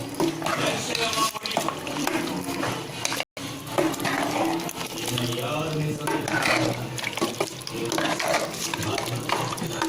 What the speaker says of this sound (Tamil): இப்போ அளவாக தேவையான அளவுக்கு போட்டு நல்லா கிளறி விடுதோம், கிண்டி விடுதோம்